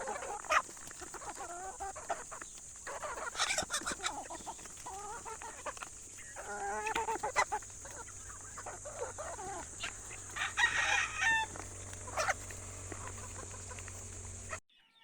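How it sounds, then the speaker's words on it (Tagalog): Several gamefowl cockerels on a farm cluck and squawk close by, with a few crowing calls breaking through over a steady high background hum. "Nakakatuwa sila dahil matatakaw pa rin silang kumain at malalaki na rin ang mga cockerels na nandito."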